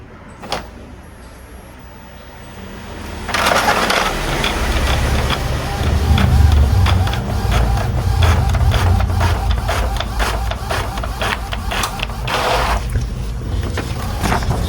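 An Epson L310 inkjet printer runs test sheets, with a clack of paper pickup followed by a steady mechanical whir and rapid rhythmic ticking of the print head, loud and close.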